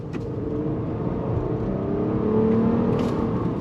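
A 2022 Nissan Murano Midnight Edition SUV accelerating at full throttle, its engine note rising steadily in pitch and loudness as it pulls, heard from inside the cabin.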